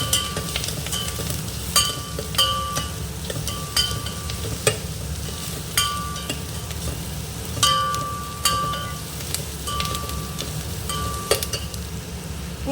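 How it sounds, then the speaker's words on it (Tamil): Crushed garlic cloves fry with onions in a pan, a steady sizzle underneath while a utensil stirs and clinks against the metal in short bursts every second or so, with no talking. "தட்டி வச்சுருக்கிற பூண்டு போட்டுக்கலாம். 2 பல் பூண்டு தட்டி வச்சுருக்கோம். அதையும் வெங்காயம் கூடவே போட்டுக்கலாம்."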